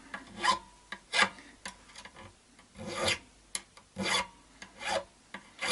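Metal file rasping across the ends of guitar frets on a refurbished Encore Strat-style electric guitar, rounding them off in a series of short, close strokes with brief pauses between.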